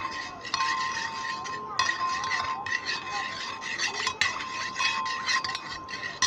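Strawberry custard powder stirred into cold milk with a spoon, with close, continuous scraping and light clinks against the bowl that run steadily and pause briefly.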